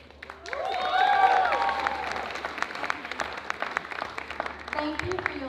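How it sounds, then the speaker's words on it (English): At a wedding reception, a crowd breaks into warm applause that swells quickly and holds as a steady patter of clapping, following a brief voice at the start. "Let's all give another round of applause for the family."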